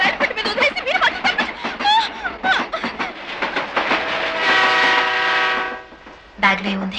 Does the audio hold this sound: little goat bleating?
no